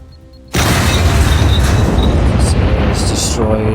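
C4 explosives blowing against base walls in the survival game SCUM: a quiet lead-in, then an abrupt loud blast that rolls into a sustained roaring, crackling rumble of destruction lasting to the end.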